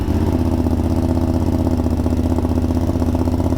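A motorcycle engine fitted with a cheap aftermarket Amazon exhaust, running steadily at idle with a close, loud, even rumble and rhythmic clatter throughout.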